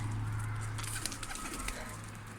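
Pigeon on a rooftop terrace giving soft, low cooing calls, close by over a steady background hum, with a few faint brief rustles.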